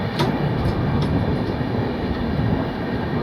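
Inside a moving passenger train travelling toward Ujjain, a loud, steady rumble of the carriage fills the space with faint rhythmic clicks from the wheels on the rails.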